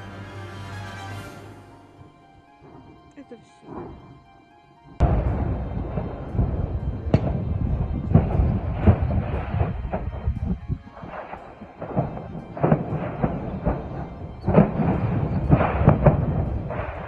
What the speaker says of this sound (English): sounds of blasts and burning projectiles flying into the sky